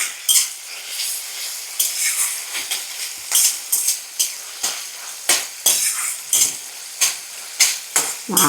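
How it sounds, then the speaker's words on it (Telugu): Fenugreek leaves with curry leaves fry in a pan for a prawn curry, giving a steady sizzle broken by repeated sharp scraping stirs of a utensil against the metal, loud and close with no voices. "మెంతెం కూర కొంచెం ఫ్రై అవుతుంది కదా"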